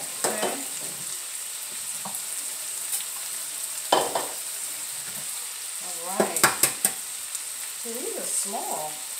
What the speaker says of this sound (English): go ahead and take my eggs and scramble them separately